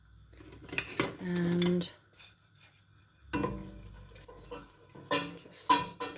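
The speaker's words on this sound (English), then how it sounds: "I'm going to add my onions in there" Chopped onions tip into a pan with a tablespoon of oil on a gas hob and get stirred, giving a few close metallic scrapes and clinks of utensil against pan between quiet pauses, with a word or two of speech.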